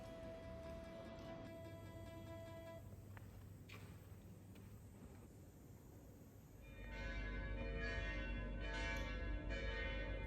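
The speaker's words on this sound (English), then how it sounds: "We awoke to the sound of church bells the next morning." Church bells ring out over Florence, Italy, their sustained overlapping tones carrying through the morning air, joined later by a heavier, louder peal with strong low hum.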